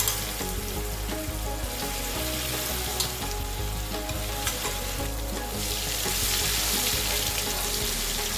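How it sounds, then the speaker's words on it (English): A ground chilli paste sizzles and spatters in hot oil, a continuous crackling fry with occasional stirring scrapes, close and fairly loud. "let's fry the first paste that we ground"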